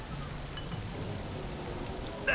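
Acid rain pours in the Star Wars Jedi Academy video game, a steady hissing wash of rainfall that holds evenly throughout, near and dense, with a brief louder burst at the very end.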